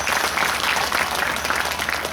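Sustained applause from an event audience gathered for a Ramayana program, a dense, even wash of many hands clapping close and loud throughout, with no voices over it.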